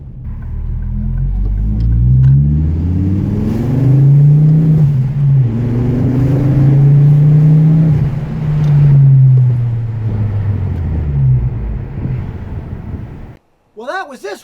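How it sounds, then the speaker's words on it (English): A Ford Focus ST with a 5-cylinder engine revs up and down in several deep, throaty swells, loud and close, before cutting off abruptly and giving way to a brief different sound. "So the 5-cylinder engine is just amazing."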